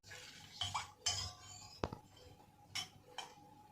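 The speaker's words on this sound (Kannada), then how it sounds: "ಪೌಡ್ರ್ ಹಾಕಿದ್ಮೇಲೆ ಈ ಥರ ಗಂಟಿಲ್ದೇ ಇರೋ ಥರ ಮಿಕ್ಸ್ ಮಾಡ್ಕೋಬೇಕು" A spoon clinks and scrapes against a bowl while powder is stirred in to a lump-free mix, with a few sharp metallic taps and pauses between strokes, close and fairly quiet.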